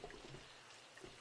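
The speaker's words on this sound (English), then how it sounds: "It's raining in my base right now." Rain pattering steadily inside a roofed base with glass blocks in 7 Days to Die, a faint continuous hiss of drops with no talking.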